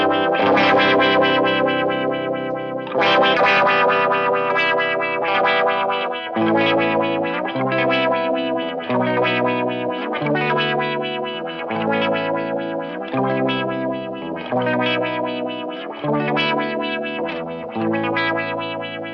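Electric guitar played through a HARAFNA LFO low pass filter pedal over a slightly driven clean tone, with sustained chords and then rhythmic strummed passages whose brightness pulses and sweeps, loud and with no voices.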